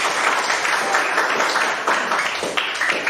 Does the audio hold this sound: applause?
yes